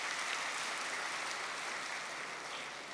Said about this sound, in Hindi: थैंक यू, को ताली तो बजा दो